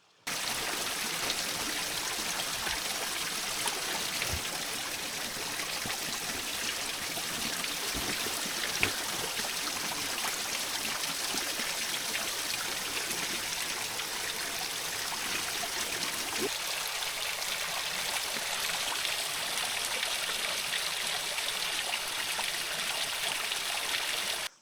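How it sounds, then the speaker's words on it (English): Stream water flows steadily near a small waterfall, a continuous close rushing and trickling wash that stays even and uninterrupted. "it's flowing nicely, the water. There's a nice little waterfall just up there."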